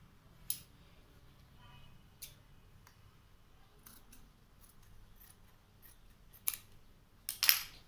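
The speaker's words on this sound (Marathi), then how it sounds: "उंचीच्या साधारणपणे थोडा कमी अशा प्रकारे आपण हा कपडा कापून घ्यायचा आहे।" Scissors snip fabric cut for sewing a potli bag, a few sharp isolated cuts spaced over quiet room tone, with a louder cluster of snips at the end.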